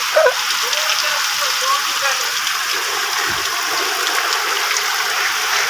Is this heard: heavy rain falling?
yes